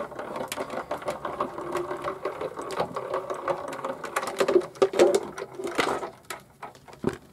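Card inside an embossing folder cranks through an embossing machine, a steady close mechanical grinding and ratcheting with sharper clicks and creaks near the end, no talk.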